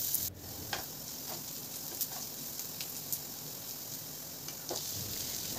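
Chopped onion and ginger fry quietly in a pan, giving a soft, steady sizzle with a few light ticks and scrapes spread through it. No voices.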